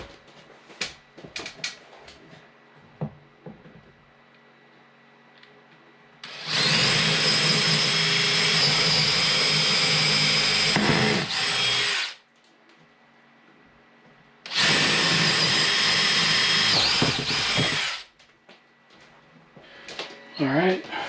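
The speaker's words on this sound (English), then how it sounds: "So I can drill out my holes. So let me get those holes drilled." Two long bursts of power drilling into a sliding barn door rail for a Signstek 5ft barn door kit at an off-grid cabin build, each several seconds, loud and close, with brief handling noises before and between.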